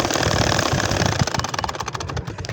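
A household sewing machine stitching a double potol-leaf nakshi kantha quilt, a loud, close, fast rhythmic whirring and knocking that holds steady throughout.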